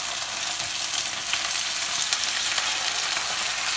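Loud, dense, continuous sizzle of two oven-roasted pork loin chops pan frying, close and steady with faint stirring crackles throughout.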